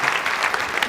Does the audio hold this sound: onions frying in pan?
no